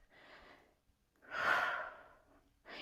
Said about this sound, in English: Maybe we're finding that ujjayi breathing, right? That deep back throat breathing